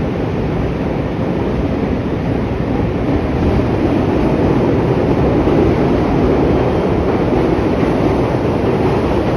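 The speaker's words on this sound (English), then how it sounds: "the Chicago Metro train." A Chicago metro train rumbles past outdoors, a loud, dense, continuous roar that holds steady for the whole stretch, heavily buffeted by wind on the microphone.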